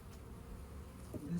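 Honey bees in a hive's top box buzz faintly in a soft, continuous hum, with a single bee's brief louder buzz passing near the end.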